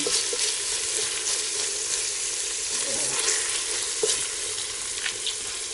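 Onions fry in a pot with a loud, continuous sizzling hiss that fills the whole stretch, scattered with faint crackles and a few soft knocks, heard up close without speech.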